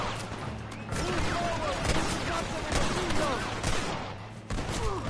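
Repeated gunshots in Red Dead Redemption, a cowboy shootout with sharp cracks fired in irregular volleys over a rough outdoor backdrop, loud and close, with a faint voice underneath.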